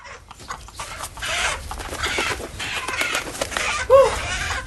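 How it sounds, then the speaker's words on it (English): A stubborn chicken clucks and squawks amid scuffling and rustling as it is chased around, with one sharp, louder squawk near the end. "This chicken is very stubborn. I have been chasing it for the last 20 minutes."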